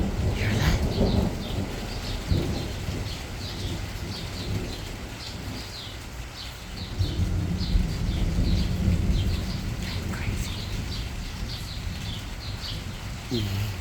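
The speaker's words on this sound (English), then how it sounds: "hear the birds and the thunder and the blue skies" Low thunder rolls beneath steady outdoor ambience while songbirds chirp repeatedly nearby, with light rain falling under patches of blue sky.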